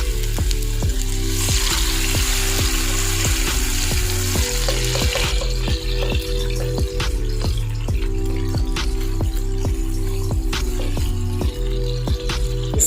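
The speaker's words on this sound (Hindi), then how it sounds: "अब हम इसमें बचे हुए ऑयल में टमाटर डालेंगे कटे हुए" Chopped tomatoes sizzle and fry in leftover oil in a pan. A loud, continuous crackle sits under regular rhythmic scraping as they are stirred.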